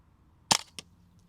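A target-shooting gunshot rings out as a sharp, loud report about half a second in, followed by a second, fainter crack a moment later, with quiet before and after.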